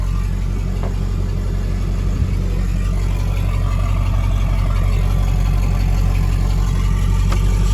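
A freshly installed burnout truck engine running steadily after its first fire-up, a loud, continuous low rumbling idle close by with no talk.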